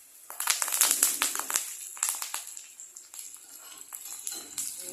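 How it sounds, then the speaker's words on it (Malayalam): Curry leaves hit hot oil with dried chillies and shallots for an erissery tempering, bursting into loud, dense crackling and spitting that fades into lighter, scattered pops. "വേപ്പില പൊട്ടിച്ചടിക്കുന്നു."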